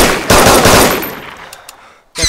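A sharp burst of rapid gunfire in the video game DayZ, loud and close, tapering into a decaying rumble, followed by another abrupt shot at the end.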